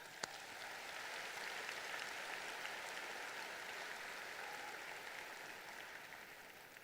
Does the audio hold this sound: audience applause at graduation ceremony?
yes